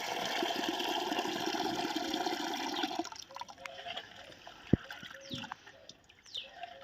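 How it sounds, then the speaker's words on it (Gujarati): Soaked chana dal gets rinsed for vada, with water pouring and sloshing for about three seconds before fading to scattered drips, trickles and small clinks. "તો હવે ધોઈ નાખશું સરસ રીતે 3-4 પાણીએ"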